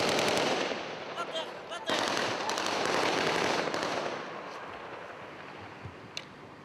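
Gunfire exchange during an anti-terrorist operation: rapid, crackling bursts of shots, fairly distant and muffled, with a few sharper isolated cracks near the end and faint voices in the background.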